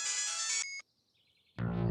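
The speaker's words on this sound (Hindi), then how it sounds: "जैसे भी तुलसी का फोन आता है भाग जाता है" A mobile phone ringtone plays loudly in a Hindi domestic drama scene, a bright electronic melody that cuts off abruptly, followed by a brief tonal tail and then another burst of sound.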